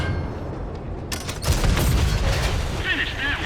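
Tank cannon fire in a video game featuring the Highlander heavy tank: a sudden dense burst of booming shots and crackle erupts after a quiet stretch and rumbles on loudly with metallic ringing, while a voice talks underneath.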